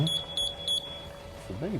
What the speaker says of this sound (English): So that's the alarm going off